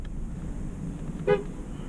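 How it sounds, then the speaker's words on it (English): One short, quick toot of a Ford F-150 pickup truck's horn cuts through steady road and engine noise inside the moving truck. "I'm gonna honk my horn at him."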